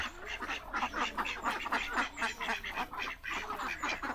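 Ducks quack in quick, rhythmic bursts close by in a rural tribal village with ponds, the nasal calls overlapping continuously throughout.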